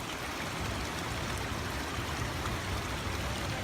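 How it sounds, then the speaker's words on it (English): Continuous rushing water of a stream below a waterfall on a hiking trail, a steady close hiss and gurgle without pauses. "We are heading towards the bigger part of the waterfall."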